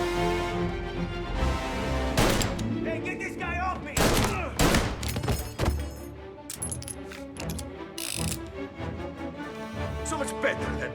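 Gunfire in the crime game Mafia: Definitive Edition, with rapid bursts and single shots cracking over a dense game soundtrack, loud and close throughout.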